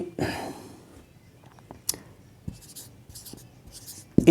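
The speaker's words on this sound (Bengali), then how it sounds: "এ বি সি মানে একটা একটা করে উপাদান লিখতেছি" Marker or chalk writing set elements on a board: quiet intermittent scratches and taps, a few soft strokes in sequence, with brief voice sounds at the start and end.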